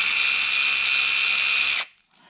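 A Mac or Makita cordless ratchet spinning freely with a high, steady electric motor whine, close and loud, cutting off sharply near the end with a brief mechanical rattle after.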